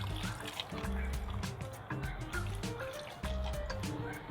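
Gin being poured for a martini from a Trav-L-Bar portable bar, a trickling, splashing flow of liquor into a glass, close and fairly quiet, with small clinks along the way.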